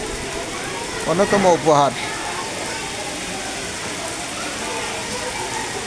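Steady rainfall hisses throughout as an even, continuous wash, with a person speaking briefly over it near the start.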